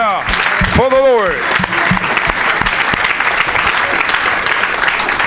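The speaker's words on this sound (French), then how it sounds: "Somebody put your hand together for the Lord" Church audience applause during a bilingual French-English evangelical sermon, a steady clatter of clapping filling the whole stretch, with a preacher's voice rising briefly over it near the start.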